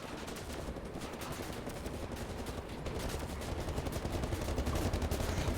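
Dual shotguns firing in Wolfenstein: The New Order, a continuous dense barrage of blasts and battle noise that grows louder toward the end, with no speech over it.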